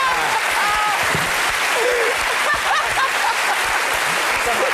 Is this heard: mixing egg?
no